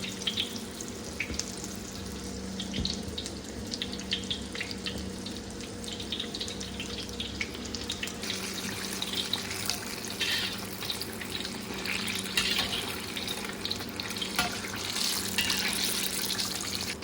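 Coated vegetable fritters frying in oil, a dense continuous hiss and crackle close up, steady and fairly loud throughout, no talk.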